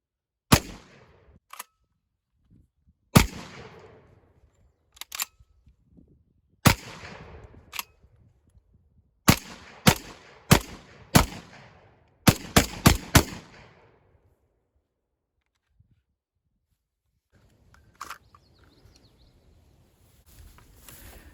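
A Panzer Ranch shotgun fires double aught buckshot from a drum magazine outdoors, loud sharp blasts spaced irregularly, some in quick pairs and a fast cluster near the end, with echoing decays between.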